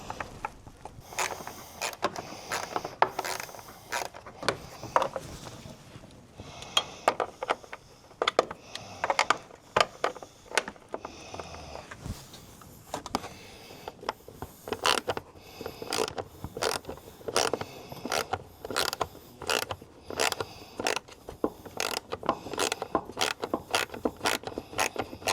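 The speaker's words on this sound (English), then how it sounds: "I'll switch back over to our 8 millimeter, and we'll get the 3 signature light screws out." An 8 mm wrench backing out three signature light screws on a Harley-Davidson motorcycle during a turn signal kit install, giving close, irregular bursts of clicking and ratcheting with short pauses between turns.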